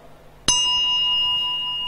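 A Buddhist ritual bell (khánh) at an ordination ceremony is struck once, giving a sharp clear strike and then a bright sustained ring that fades slowly, alone in a quiet hall.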